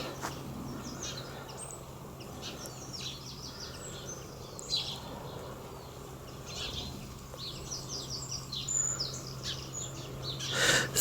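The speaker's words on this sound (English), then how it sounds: "There's lots and lots of birds now going into the clematis around the cottage" Many small birds chirping and calling in the clematis around a countryside cottage, with overlapping bursts of tweets at moderate distance over a steady low hum.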